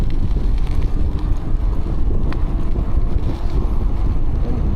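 Steady, buffeting wind roars across the microphone during an e-bike ride at Lake Balboa. The low rush is loud and continuous, with no voices.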